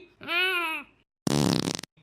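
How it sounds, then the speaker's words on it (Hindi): A drawn-out tonal squeal is followed by a loud, sputtering fart about half a second long, both close and with no talking. "पादी कैसे तू? पोल्यूशन फैलाती है।"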